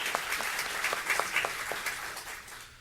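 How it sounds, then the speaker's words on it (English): At a teacher of the year award ceremony an audience claps moderately and fairly distantly, a few sharper claps standing out before the sound tapers away. "Please give him a round of applause."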